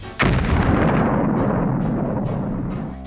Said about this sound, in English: As soon as you're out of reach, the bomb will go off.